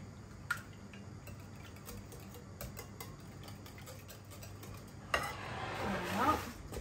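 A spoon stirs a mixture of milk, black pepper and salt in a bowl, with faint, irregular clinks and taps and then a louder, swishing stir near the end, close and quiet.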